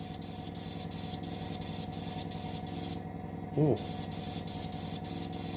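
Airbrush spraying a light dust coat of paint onto a scale model of a Russian Navy Project 955 Dolgoruky submarine: a steady close hiss broken by short regular pulses, with one brief exclamation from a voice partway through.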